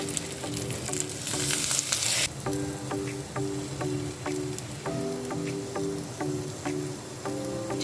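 Chicken, cheese and boiled potato snacks fry in hot oil just after being flipped, a loud close sizzle that starts with a bright hiss and settles into steady bubbling crackle with small pops.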